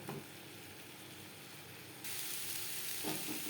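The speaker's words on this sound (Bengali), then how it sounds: "নারকেলের সাথে ডাটা আরও তিন চার মিনিট মিডিয়াম ফ্লেমে নাড়াচাড়া করব" Drumstick stalks and coconut stir-fried in a pan over a medium flame, giving a faint, steady sizzle with a couple of soft stirring scrapes.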